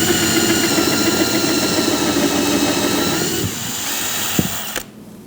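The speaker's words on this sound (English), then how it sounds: "we're going to use what's called a countersinking drill bit" A power drill fitted with a countersinking bit whirs steadily as it bores a screw hole, its motor holding a constant loud tone before slowing and cutting off near the end.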